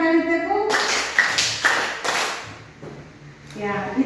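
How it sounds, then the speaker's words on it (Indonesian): Group of students clapping in counted sets during a classroom warm-up, sharp loud claps in short bursts between stretches of a voice talking, with a lull before more speech returns. "Satu kali tepuk, dua kali tepuk, tiga kali tepuk, empat kali tepuk"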